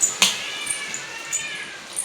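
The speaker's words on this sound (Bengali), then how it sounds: "কোথায় বিড়ালে বিড়ালে মারামারি লাগিয়েছে কে জানে" Cats fighting outdoors on a rainy day, a few distant yowls and caterwauls rising and falling, faint against a quiet background.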